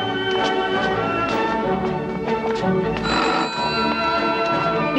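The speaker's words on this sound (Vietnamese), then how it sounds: "nghe điện thoại trước đi nha" A telephone rings in a drama scene with a steady run of bright, repeated electronic trills, loud and close over a busy background of music and room sound.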